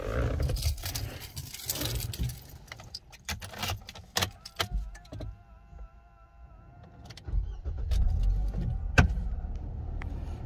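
A 2009 Nissan Qashqai 2-litre petrol automatic is started, preceded by keys jangling, clicks and door or cabin handling noises, then a quiet idle hum that builds toward a low rumble by the end.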